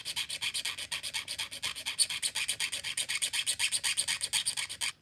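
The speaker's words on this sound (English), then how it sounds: "So we can then come in with a sander." Quick back-and-forth rasping of a hand sander on a plastic sprue gate of a Tamiya 1/32 Mosquito model canopy, steady rhythmic strokes close up and fairly soft, with no voices.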